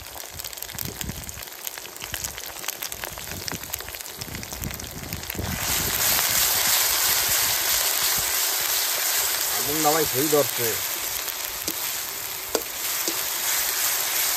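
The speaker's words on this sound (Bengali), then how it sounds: "আদা রসুনটা ভাজা হয়ে গেছে।" Ginger and garlic paste fry in a pan for a mutton curry. The crackling sizzle grows louder and denser partway through and continues under a speaking voice.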